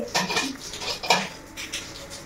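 Metal utensil scraping and clinking inside a wok (kadai) while tea is stirred without a spoon, several sharp close scrapes in an uneven rhythm with no talk.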